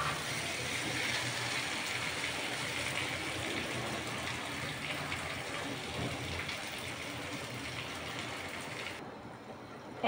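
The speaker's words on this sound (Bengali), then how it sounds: "এখন আমি পানি দিয়ে দিব।" Water pours steadily into a pot of rice and meat, a continuous soft gushing that runs for about nine seconds before cutting off.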